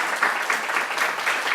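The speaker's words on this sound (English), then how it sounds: "Please give her a big round of applause." A studio audience applauds for Ambassador Canjura of El Salvador at an immigrant family unity forum in Washington, DC: a brief, steady wash of clapping with no breaks.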